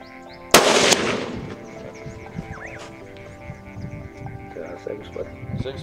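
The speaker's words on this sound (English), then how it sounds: "We quickly settled in and got down to sighting our new rifle. This one, a Ruger 300 Winchester Magnum." A single loud, sharp blast from a Ruger .300 Winchester Magnum rifle being sighted in outdoors in Uganda, followed by a fading echo and quieter ambient sounds.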